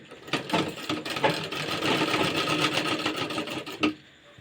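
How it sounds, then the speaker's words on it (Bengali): Domestic sewing machine stitching along the neckline edge of a kameez, a steady continuous mechanical whir with short bursts of needle clatter, close and loud, with no talking. "এরপর আমরা এটা গলার ধারে ধারে একটা সেলাই দিয়ে দেবো।"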